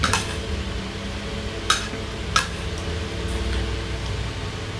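A spoon clinks and scrapes against a plate of rice during a meal, giving a few sharp, distinct taps over a quiet steady room hum, close by, with no talking.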